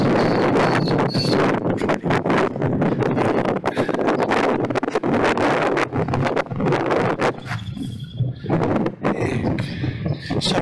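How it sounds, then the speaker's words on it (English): Gusty wind buffets a microphone outdoors at St Anne's in Aldinga, a loud, rough rumble that rises and falls in irregular bursts throughout, with no talk. "Sorry about the wind, guys."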